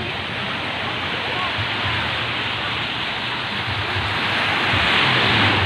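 Steady, broad rushing wash of surf rolling onto San Fabian Beach, Pangasinan, Philippines, continuous and fairly loud, with a faint murmur of voices beneath.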